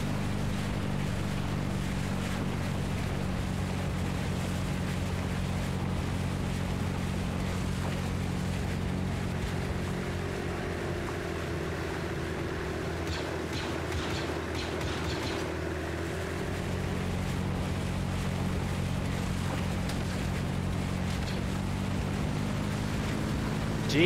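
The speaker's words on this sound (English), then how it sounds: "Just on a boat." A boat moves steadily across water in a video game, with a constant low engine drone and washing water noise held at an even level throughout, no talk.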